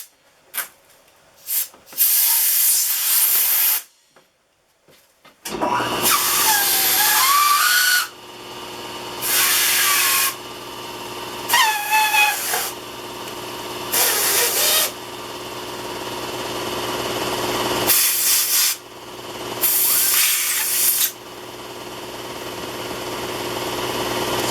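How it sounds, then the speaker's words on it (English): Compressed air blasts against a mold on a model aircraft fuselage in loud, close bursts of hissing, several seconds each, separated by short pauses, with squeaky rubbing sounds during some of the blasts. "I should be able to just blast it with a little bit of air"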